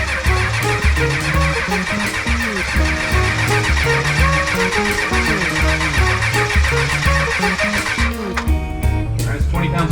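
A 6.5 diesel engine in a squarebody truck cranks over continuously on the starter, a loud, rhythmic mechanical churn at close range without catching.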